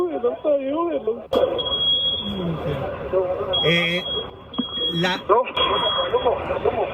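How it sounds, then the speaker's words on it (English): An emergency alarm sounds as a steady high electronic tone, heard intermittently under continuous excited talk from several people amid crowd noise. "La alarma de emergencia"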